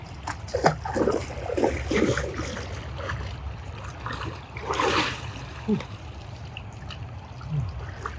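Water splashing and trickling in a Grand Canyon river, with several irregular splashes and bursts of movement over a steady flowing-water background at close range.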